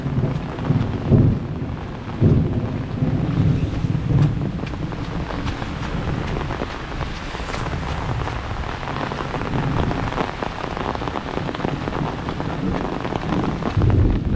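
Steady heavy rain pours down outdoors with wind buffeting the microphone, forming a dense, continuous wash with low rumbling underneath; no distinct thunder clap stands out.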